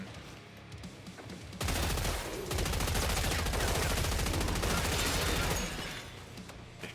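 Sustained automatic gunfire in a video game during a solo sewer run with a bullet-only Commando build, a dense, loud burst of rapid shots lasting about four seconds, then tapering off.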